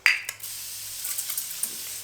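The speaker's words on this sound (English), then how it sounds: "And then I go in with the thermal spray." Thermal water face spray misting from a can, a short hissing burst at the start followed by a softer lingering spray hiss and faint handling clicks.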